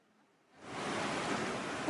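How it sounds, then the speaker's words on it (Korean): Storm waves crash over a coastal village during a cyclone, a broad roaring surge that swells in from quiet and stays loud and continuous. "폭풍우가 휘몰아치며 거센 파도가 해안가 마을을 집어삼킵니다"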